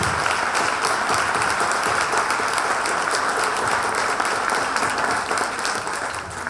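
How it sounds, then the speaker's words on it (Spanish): Applause from the audience at the opening of an international psychoanalysis congress, a thick, even wash of many hands clapping that holds steady and tapers a little at the close. "que merece un aplauso por su denodado esfuerzo"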